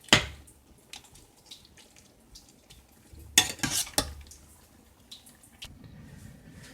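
Stew peas stirred in a pot with a spoon, a few scraping metallic clinks and soft liquid swishes, sparse and close, with quiet gaps between strokes.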